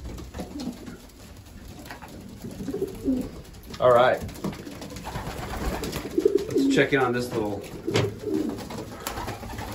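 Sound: racing pigeons cooing in the loft

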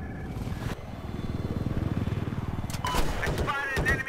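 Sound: enemy helicopter in the video game AcesHigh

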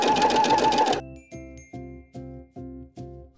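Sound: sewing machine zigzag stitching knit swimsuit fabric

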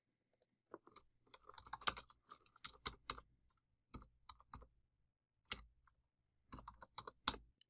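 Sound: typing a search on a computer keyboard

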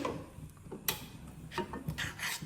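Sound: stirring palm fruit payesh in a pot

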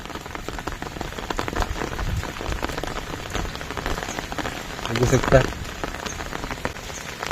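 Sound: rain falling on a village rice field

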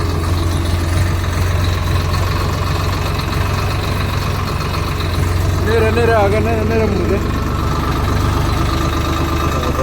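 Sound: tractor engine idling

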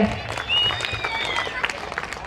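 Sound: audience applause at temple festival

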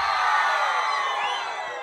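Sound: concert crowd shouting and cheering for a forró singer

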